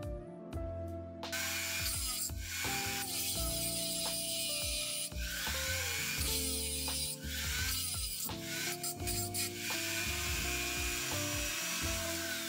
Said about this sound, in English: I've got some grinding to do.